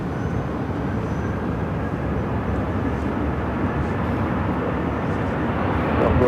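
A United Airlines Boeing 737-800 jet at Phoenix airport, a steady broadband engine roar that holds constant and swells slightly louder near the end, with no talk over it.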